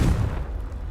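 A Confringo explosive spell cast in Hogwarts Legacy, a single close, loud, deep boom that decays quickly.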